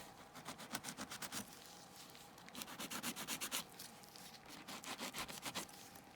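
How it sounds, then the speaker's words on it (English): Rapid back-and-forth sanding strokes rub across tarnished Louis Vuitton brass hardware, coming in quiet, steady bursts of scratchy friction with short pauses between runs. "So that's how I will be sanding it."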